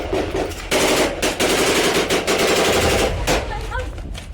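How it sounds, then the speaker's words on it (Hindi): Heavy machine-gun bursts ring out as Al-Qassam fighters fire on IDF troops near Merkava tanks in Jabalia, loud rapid volleys with short gaps, a few distant echoing cracks trailing at the end. "अल कासिम के लड़ाके आईडीएफ के ऊपर ताबड़तोड़ गोलीबारी शुरू कर"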